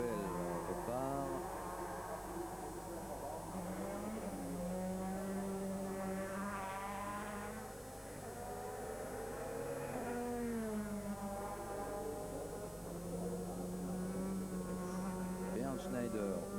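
An Opel DTM race car pulls away from the pits at Hockenheim, its engine revving and rising through the gears at a distance beneath continuous race commentary.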